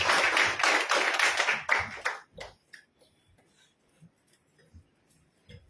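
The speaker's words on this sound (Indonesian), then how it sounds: "kita beri kesempatan dan beri tepuk tangan buat Tuhan Yesus" A church congregation at a Sunday service claps for Jesus in a loud, dense burst that breaks off after about two seconds, leaving a few scattered single claps and taps in near silence.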